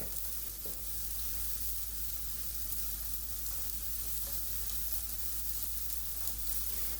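Honey chipotle salmon fillet seasoned with chipotle and Old Bay fries in a pan, giving a steady, even sizzle that holds at moderate level throughout with no talk over it.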